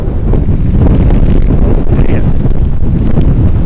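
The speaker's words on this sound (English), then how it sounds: "Look at the breeze." A strong breeze gusts steadily across a waterfront golf course, a dense low roar of wind buffeting the microphone with no pauses.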